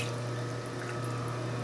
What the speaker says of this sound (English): I'm going to wet my hands.